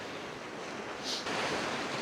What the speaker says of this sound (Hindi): एक तरफ ये खौफनाक आवाज़ें पानी की